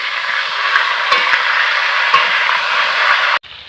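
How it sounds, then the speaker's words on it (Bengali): Pointed gourd (potol) being stirred in hot oil in a pan, a continuous close sizzle with scraping spatula strokes and a few sharper clinks, cutting off abruptly near the end. "এখন আমি পটলটাকে একটু নাড়িয়ে দেবো।"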